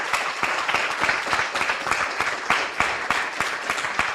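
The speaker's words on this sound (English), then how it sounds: "So please, a big applause to our speakers." Audience applause for conference panel speakers in a hall, steady dense clapping with many hands, loud and close, continuing throughout with no talk over it.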